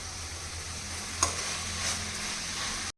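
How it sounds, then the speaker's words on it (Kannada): Vegetables frying in oil for upma in a pan, a steady close sizzle with the soft scrape of stirring and one brief sharper clink partway through, no voices. "ಇವಾಗ ನಾನು ಎಣ್ಣೆನಲ್ಲಿ ತರಕಾರಿನೆಲ್ಲ ಫ್ರೈ ಮಾಡ್ಕೊಂಡಿದ್ದೀನಿ"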